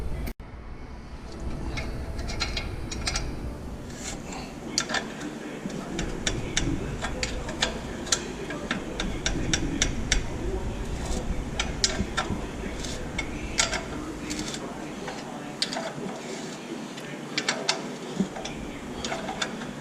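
Bolts are worked loose from the manifold of a Caterpillar Sixty engine with no penetrating oil, giving irregular metallic clicks, ratchet ticks and clanks over a low rumble, close and fairly loud.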